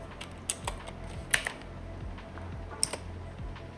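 Commands being typed on a computer keyboard, a few sharp separate key clicks at an uneven pace, close up over a low background hum.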